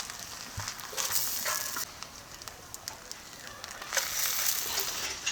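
Fish and pointed gourd wrapped in banana leaf frying on a tawa, giving a soft, steady sizzle and crackle with occasional sharper pops and light handling noises.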